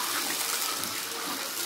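Water poured into a kadai pan holding fried cashews and raisins while making rava kesari gives a short, steady splashing gush at moderate level, with no talking.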